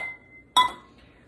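A kitchen mixing bowl, grabbed for sifting cornbread dry ingredients, gives a single sharp glassy clink partway through. A faint ringing tone comes before it, and it fades quickly into quiet.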